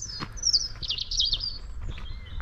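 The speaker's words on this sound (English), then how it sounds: "Birds are tweeting." Small birds chirping and tweeting close by beside a canal, a bright cluster of quick trills mid-clip over low outdoor rumble.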